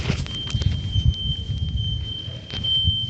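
A home smoke alarm sounds a thin, steady high-pitched tone over rumbling, muffled room noise, fairly faint against the louder low background.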